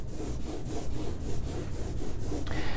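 An ink brayer rolls back and forth across an inked surface in a printmaking studio, making a steady, soft rhythmic rubbing swish with regular strokes about every quarter second and no speech.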